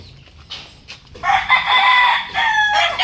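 Young roosters (stags) crow loudly nearby in a yard, one drawn-out crow following shorter calls, with faint farmyard sounds in the background.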